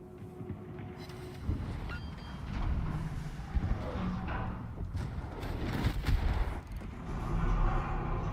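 Warship guns firing in World of Warships, a series of irregular heavy booms and blasts over a rumbling sea and engine background, some near and some more distant.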